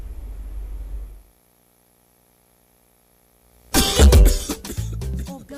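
After a stretch of near silence, a loud, close cough bursts out, followed by a couple of rougher hacking coughs.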